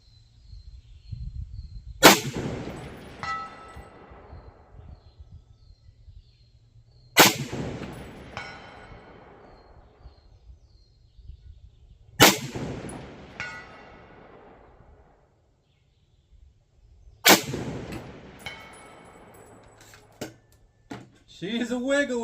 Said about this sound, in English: here's some shots at 300 yards on the 16-inch gong